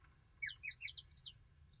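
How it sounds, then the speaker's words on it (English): Several birds sing a short, bright run of chirps and trills, fairly close and moderately loud, above a low steady hum. "the birds singing their hearts out"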